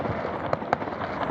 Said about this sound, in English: The fireworks been carrying on quite a long time,